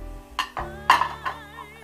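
Plates are set down on a table one after another in a few separate clinking touches of ceramic and glass that ring briefly, close and clear, with no talking.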